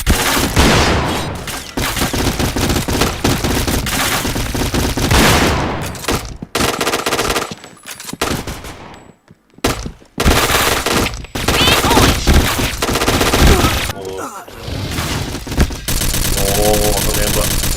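Rapid automatic gunfire in the first-person shooter Point Blank, with long loud bursts and brief pauses, while a player talks over the shooting.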